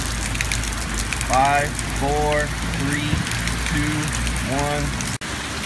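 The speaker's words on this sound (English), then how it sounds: "now the rain's gonna get a little bit harder" Simulated rain beats steadily on the surface of a TPG Dragon Egg during a water test, a constant close patter, while a man counts down aloud over it.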